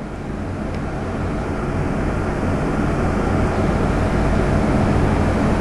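A 632 big-block Chevy engine with mirror image turbochargers runs on a dyno on pump gas at 14 pounds of boost, giving a loud, sustained, steady roar that fills the whole clip.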